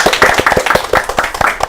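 A small group claps together, quick uneven hand claps close by, brief and lively with no voices.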